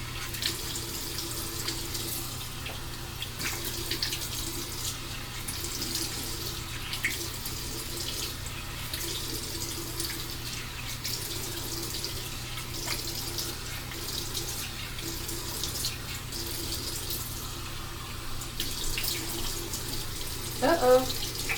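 Tap water runs steadily into a sink at a bathroom basin, a constant soft hiss of flowing water with faint splashes as a face is rinsed, heard close and fairly quiet throughout.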